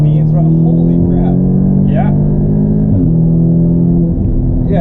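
Audi S3 with a Stage 2+ 034 Motorsports tune pulling hard in fourth gear, heard from inside as a loud, steady engine drone that rises in pitch under a talking voice.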